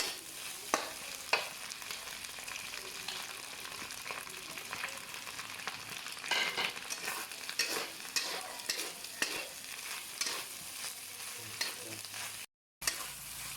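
Chicken and pork stir-fried in a pan for dry-style sukiyaki, a steady sizzle with repeated scraping and clattering stirs, close and fairly loud throughout, briefly cutting out near the end.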